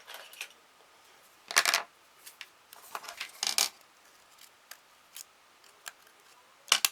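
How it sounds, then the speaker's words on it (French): Small scissors trim the edge of a homemade craft glue holder with a few quiet, sharp snips and clicks scattered across near-silence. "je le couperai avec mes tout petits ciseaux là"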